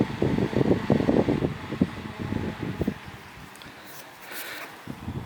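Small fan powered by a 6W 5V mini USB solar panel, a steady close whirring hum with fluttering air noise that eases and thins out in the second half.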